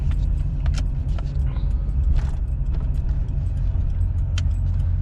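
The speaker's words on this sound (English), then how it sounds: "We're just taking it around the block and seeing how it does." A tuned pickup truck on an economy tune, still warming up, cruises gently around the block, its engine a steady low rumble with faint rattles and knocks scattered on top.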